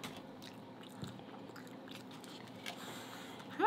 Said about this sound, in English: Hot Pockets is more chewing than I thought